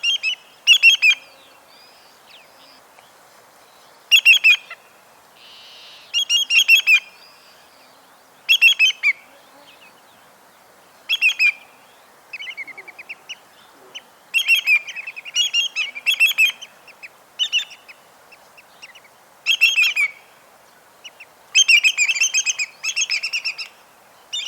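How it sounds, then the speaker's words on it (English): Greater yellowlegs giving clear, ringing call series in short bursts of several notes, repeated roughly every few seconds against a quiet background, with no talking. "First, the greater yellowlegs."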